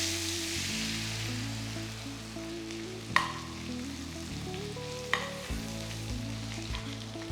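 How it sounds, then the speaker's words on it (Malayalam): Half a cup of grated coconut mixed with chilli paste frying in oil, a steady close sizzle under a low hum, broken by two sharp utensil knocks, with no talk. "നമ്മൾ 1/2 കപ്പ് തേങ്ങയിലേക്ക് കുറച്ച് ചില്ലി പേസ്റ്റ് എല്ലാം കൂടെ മിക്സ് ചെയ്ത് വെച്ചിട്ടുണ്ട്. അത് ഫ്രൈ ചെയ്തെടുക്കാം."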